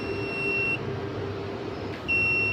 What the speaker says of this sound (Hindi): ये क्योंकि बजर पे जा रहा है इस टाइम